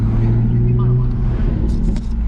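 A Toyota A90 Supra drives along a road, its engine a steady low drone heard from inside the car, loud and continuous throughout, with faint voices in the cabin.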